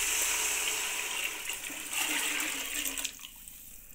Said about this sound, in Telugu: ఈ నీళ్ళు పోసేసుకుందామండి ఇందులో.